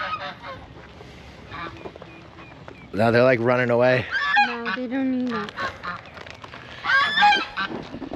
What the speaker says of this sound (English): trying to feed the geese